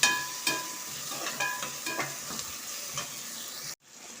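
Tomatoes and onions frying in a pan while a utensil stirs them, with a steady sizzle and a series of scraping stirs at regular intervals, close and fairly quiet, ending in a sudden cut.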